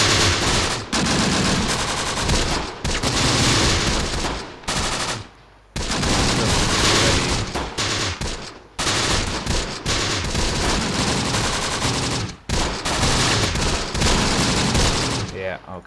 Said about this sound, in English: So they've got a lot of automatic weapons, but hopefully just submachine guns.